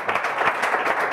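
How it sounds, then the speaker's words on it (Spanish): A short burst of applause, a small group clapping briskly for about a second. "Un aplauso para ellos."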